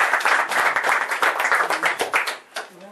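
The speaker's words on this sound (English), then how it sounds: "give Jim a round of applause" Dense applause from a crowd, loud and continuous at first, then thinning out toward the end.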